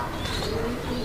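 Local deshi pigeons coo softly in a short, continuous burble, close by, with faint chirps and a brief cut at the end.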